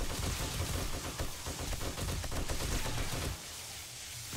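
Rapid bursts of gunfire from a 7 Days to Die firefight, dense overlapping shots for about three seconds before dropping to a quieter rumble, loud and close.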